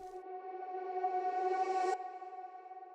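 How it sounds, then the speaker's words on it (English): A vocal swells backward into a sudden cutoff, washed in heavy reverb, then a lingering echoey tone fades out. "And this reversed vocal as well over here."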